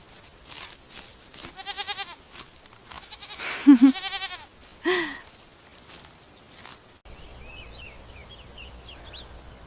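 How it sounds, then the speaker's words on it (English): A farm goat gives several wavering, nasal bleats close by, spaced across the first half and separated by quiet gaps, followed by softer outdoor background with faint bird chirps. "I'm feeding the goat."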